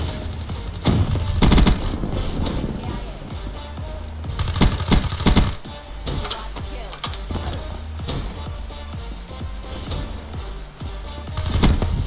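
Gunfire in a shooter video game with a Kuda class loadout: repeated loud bursts of rapid automatic fire separated by brief gaps, with steady game background noise in between.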